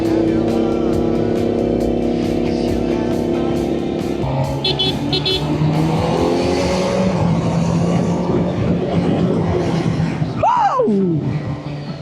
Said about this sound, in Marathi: सायलेन्सर पण कडक आहे यार